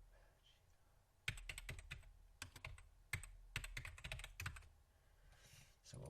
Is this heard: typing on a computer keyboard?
yes